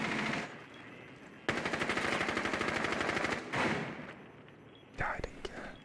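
Rapid automatic gunfire in a shooter video game, a sustained burst of shots hammering at a hard wall, preceded and followed by quieter game noise and a final sharp shot; loud and close.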